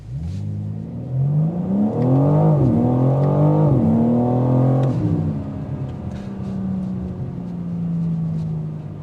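A 2025 BMW M4 Competition xDrive coupe engine accelerates hard, its loud, rising growl stepping through quick gear changes before settling into a steadier drone, with no talking.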